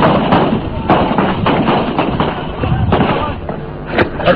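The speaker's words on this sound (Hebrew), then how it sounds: "פה ושם יריות של צלפים" Sniper gunfire near the Mount of Olives and Jerusalem's Old City cracks out as a rapid series of sharp shots and thuds over a muffled, rumbling background.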